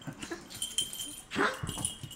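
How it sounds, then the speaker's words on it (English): Puppies bark, yip and whimper close by in short irregular bursts over about two seconds, with a louder burst of yelping near the middle and adults talking softly alongside. "Is that the puppies?"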